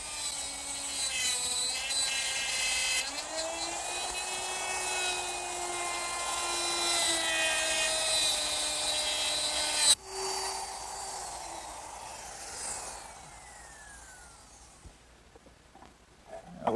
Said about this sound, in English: using my router with a dovetail bit and a little collar